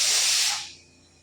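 A pressure cooker on a stove lets out a loud, close burst of hissing steam that fades away after about half a second, with no talking.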